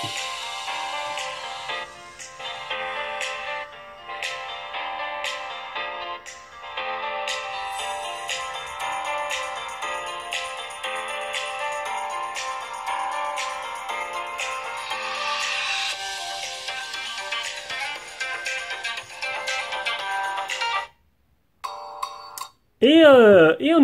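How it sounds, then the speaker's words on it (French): Music plays from the built-in loudspeaker of an Umidigi One Max smartphone, bright and somewhat thin, running continuously for about twenty seconds before a short gap and a brief final burst. "On va écouter maintenant la musique avec le haut-parleur."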